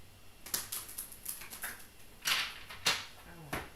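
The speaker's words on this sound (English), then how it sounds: "One more shuffle." Tarot cards being shuffled by hand, a run of crisp riffling flutters and soft slaps in short bursts, close and fairly quiet, with a louder cluster near the end.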